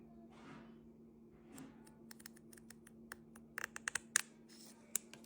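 Scissors cut needlepoint canvas between the thread intersections. A run of small, crisp snips and clicks grows louder toward the end over a faint steady hum in a quiet room.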